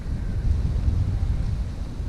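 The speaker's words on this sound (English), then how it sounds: "it's quite windy." Steady wind buffeting the microphone outdoors beside a pond, a loud low rumble that holds for about two seconds with no voices.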